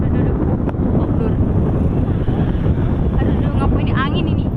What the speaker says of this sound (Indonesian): ngapain ini angin ini?